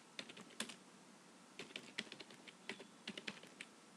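Command being typed on a computer keyboard, a quiet run of close key clicks in irregular clusters with brief pauses.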